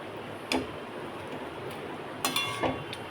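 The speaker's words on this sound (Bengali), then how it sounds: "চিকেনগুলো দিয়ে এবার নাড়তে হবে" Chicken pieces are stirred in a pan, with a soft continuous sizzle broken by a few brief scrapes and clinks of the utensil against the pan.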